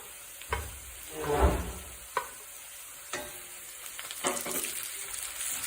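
Onions with ginger garlic paste sauté in a pan, a soft, close sizzle marked by a few scraping stirs and spoon taps, with no voices.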